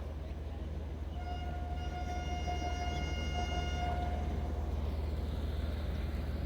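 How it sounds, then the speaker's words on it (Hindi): Departure whistle of a train at Tando Adam platform, a long steady tone with harmonics lasting several seconds over a constant low rumble of the waiting train and platform noise. "डिपार्चर विसिल हो गया"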